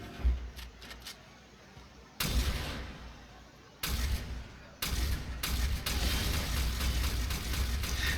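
Rapid bursts of Latron Wraith rifle fire in the video game Warframe, loud broadband volleys starting and stopping in separate strings of shots, with quieter game ambience between them and no talking.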